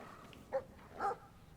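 A dog in the video game Brothers: A Tale of Two Sons gives two short, faint barks about half a second apart, muffled against a low background hum.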